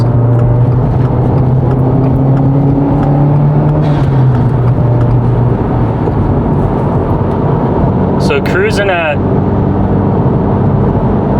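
A 2022 Subaru WRX fitted with a Perrin front mount intercooler accelerates hard, its engine a loud steady drone rising in pitch, with a passing whoosh near the end and people talking inside the car.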